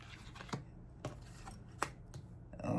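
Tarot cards being shuffled by hand, heard as a few sharp, close riffles and slaps spaced about half a second apart, with a rustle building at the end and no talking.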